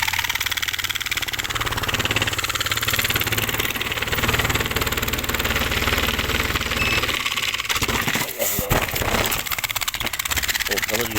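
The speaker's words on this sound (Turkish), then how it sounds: "Bu en küçük makinenin motoru." A small machine's motor drones loudly and continuously with a rough, rattling vibration, briefly interrupted by clattering near the end, while voices are faintly present.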